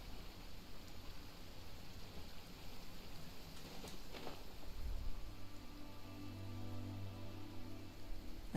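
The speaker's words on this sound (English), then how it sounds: "Oh, it is raining." Steady, soft rainfall hisses through the Genshin Impact game world, a faint continuous wash with a brief low rumble partway through and no talking.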